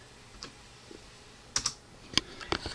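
Typing on a computer keyboard at a desk, a few sparse, faint key clicks and a short quick cluster of taps, with no talk.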